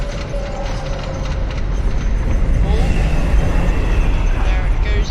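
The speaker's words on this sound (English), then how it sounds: "Here comes the next train up the lift hill." A steady loud mechanical rumble with clanking as a video game roller coaster train climbs the lift hill, broad noise filling the background with faint tonal whines.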